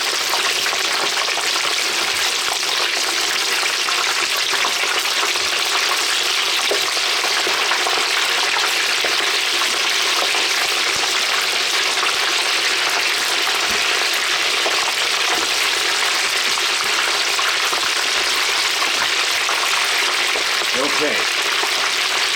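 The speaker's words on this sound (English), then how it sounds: "I'm adding those oranges to the lard carefully" Oranges frying in a pot of hot lard for pork carnitas, a steady loud broadband sizzle and bubbling throughout with occasional faint stirring clinks near the end.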